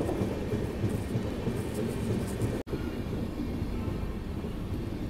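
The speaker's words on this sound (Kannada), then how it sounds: "ಶಿವಮೊಗ್ಗ ಇಂಟರ್ಸಿಟಿ ಎಕ್ಸ್ಪ್ರೆಸ್ ಬಂದೈತೆ ರೀ ತುಮಕೂರಿಗೆ." The Shivamogga Intercity Express pulls into Tumakuru railway station during heavy rain, a loud, continuous low rumble and roar, broken by one abrupt instant of near-silence midway.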